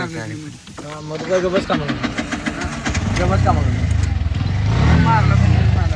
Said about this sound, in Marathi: गाडी झाली चालू झाली